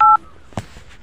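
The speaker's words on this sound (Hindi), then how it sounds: "पुलिस को फोन लगाओ फटाफट" A telephone keypad gives one short, loud dialing tone, followed by faint handling clicks and a small thump as a call to the police is placed.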